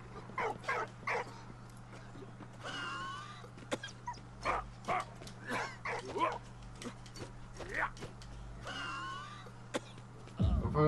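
A dog in the World War I game Valiant Hearts gives a series of short yips and whimpering barks, repeated in bursts across the scene, over a steady low game hum.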